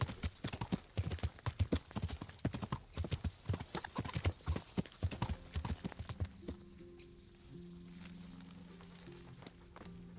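Horse hooves clip-clop in a fast, steady, close rhythm in the medieval video game Kingdom Come: Deliverance, then fade into a quieter ambient drone with a low tonal hum.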